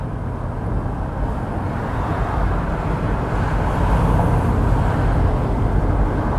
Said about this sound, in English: There is so much noise coming from those 4 turbos and 16 cylinders.